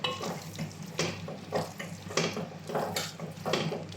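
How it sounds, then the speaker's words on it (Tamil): Half a kilo of small chicken pieces tipped into masala in a pan, a run of close clattering and scraping strokes with a light sizzle underneath, evenly repeated across a few seconds. "இப்போ சிக்கன், அரை கிலோ சிக்கனை நான் சின்ன சின்ன பீஸாக கட் பண்ணி வச்சுருக்கேன். சேர்த்துக்கலாம்."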